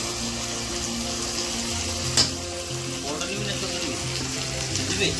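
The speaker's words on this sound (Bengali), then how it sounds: "এবার জল দেওয়া হচ্ছে একটু করে" Water trickles a little at a time into a pan of meat cooking in a little oil and spices, and the pan sizzles and bubbles steadily and close.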